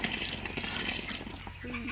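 Water solution mixed with poultry medicine pours into a poultry drinker, a continuous splashing, trickling wash heard up close with voices talking over it.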